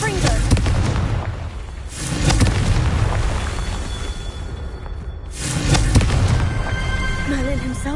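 Confringo spell explosions in Hogwarts Legacy, rendered as heavy, rumbling booms that swell and fade in repeated waves, loud and close, with game voices layered over the blasts.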